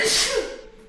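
A single sharp sneeze, close and loud, with a breathy burst that fades quickly, during a guided Ba Duan Jin qigong class.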